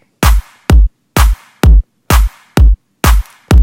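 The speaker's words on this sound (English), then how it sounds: "With the clap, I added 2 different claps." Layered clap samples from a GarageBand future house track hit eight times in a steady, evenly spaced rhythm, each a sharp, loud, bright burst standing alone with no other sounds.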